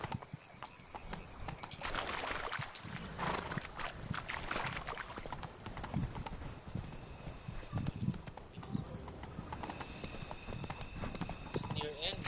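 Horse Roach's hooves clip-clop steadily through a video game, mixed with game ambience and the occasional whinny while a player talks over the hoofbeats.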